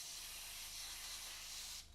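Airbrush spraying paint while painting a miniature, a steady soft close-up hiss that runs evenly and then tapers off at the end.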